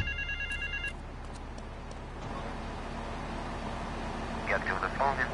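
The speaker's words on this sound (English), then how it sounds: "Get to the payphone in Torrington as quick as you can and await his instructions." A payphone rings in the GTA Trilogy video game, a repeated electronic bell tone heard at the start and faint later chirps, set over steady ambient game noise and traffic hum.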